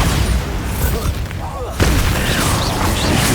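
A Bombarda explosion spell cast in the Hogwarts Legacy video game, with loud booming blasts and dense rumbling combat effects that drop away briefly before a sharp new burst.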